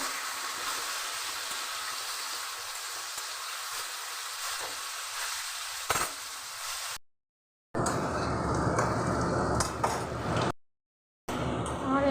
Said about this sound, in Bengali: আমি মিডিয়াম করে গ্যাসটা এঁচড়টাকে ভেজে দিয়েছি